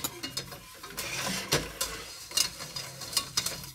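Flour being stirred into melted butter in a saucepan, with a quiet run of scraping, clicking utensil strokes and a faint sizzle, irregular and close, with no talking.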